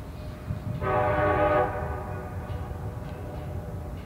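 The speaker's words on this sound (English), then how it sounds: "The northbound train, which is K597, the Dearborn Special carrying steel, slowly approaches the curve." Northbound CSX freight train hauling steel approaching a curve at Deshler, Ohio, sounds one long, loud horn blast of under a second, followed by the lower rumble of the train continuing underneath.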